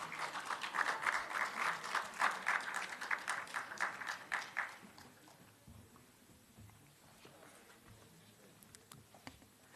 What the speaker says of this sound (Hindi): एक बार जोरदार तालियों से इस सत्र के वक्ताओं का स्वागत कीजिए।